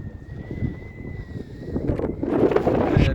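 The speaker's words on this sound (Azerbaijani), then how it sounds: "Sərin külək əsir." A cool wind blows across the Rumkale glass terrace viewpoint near Gaziantep, Turkey, as steady, rumbling gusts buffet the microphone and build toward the end.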